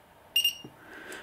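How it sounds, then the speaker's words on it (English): A cheap spot welder giving two quick electronic beeps close by, followed by faint background noise. "it beeps twice"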